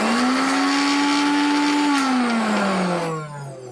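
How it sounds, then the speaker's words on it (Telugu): A mixer grinder blending washed bhringraj leaves, a loud close motor whine that holds steady, then drops in pitch and winds down as it is switched off near the end. "దీన్ని ఒకసారి మిక్సీలో తిప్పుతున్నాను"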